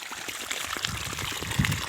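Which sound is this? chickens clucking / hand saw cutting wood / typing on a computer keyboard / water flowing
water flowing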